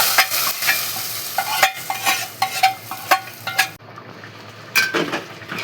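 Lentils go into a hot pan of jute leaves being tempered with fried onion for a Barisal khesari dal, giving a close sizzling hiss broken by repeated scraping stirs and clinks of a utensil against the pan.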